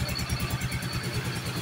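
A Yamaha Soul GT 125 scooter engine fitted with a steel cylinder block idles close by, a steady low rhythmic putter with a faint mechanical clatter and nobody talking.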